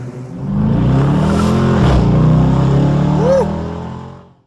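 A Ford Ranger pickup truck arrives with its engine rising to a loud, steady roar that passes close by before fading away, a voice briefly audible under the noise.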